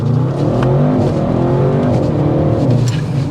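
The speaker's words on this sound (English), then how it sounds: "Give her a little go. That's just touching the gas." A 2024 Audi RS6 Avant wagon accelerates under light throttle, its engine giving a steady, loud, close rumble with rising harmonics throughout, with no voices over it.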